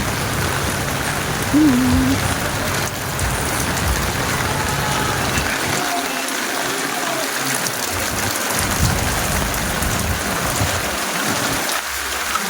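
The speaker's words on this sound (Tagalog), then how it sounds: "Malakas ang ulan." Heavy rain pouring steadily, a dense roar of drops hitting surfaces nearby, loud and continuous throughout.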